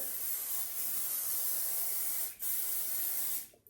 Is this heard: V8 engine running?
no